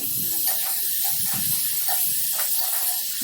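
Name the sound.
eggplant frying in oil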